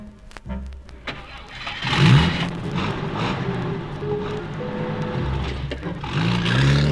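Car sound effect in a spoken ghost story, as a family sets off for their new farm: a few clicks, the engine cranking and starting, then a rising rumble that holds steady as the car pulls away, fairly loud with no talk.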